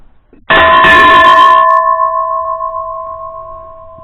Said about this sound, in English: you ring the bell. Here's the bell.